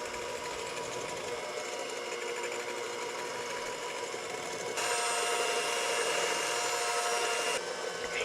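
An electric hand mixer whirs continuously while beating fruit cake batter as vegetable oil is poured in, a steady close mechanical hum that grows slightly louder partway through, with no talking.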